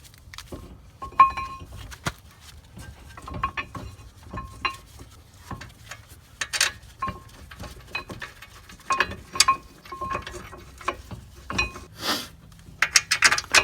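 Ratcheting clicks and metallic taps from a 15 mm wrench tightening the caliper bracket bolts on a Ford Taurus during a brake rotor replacement, in irregular bursts of close, moderately loud mechanical clatter with no talking.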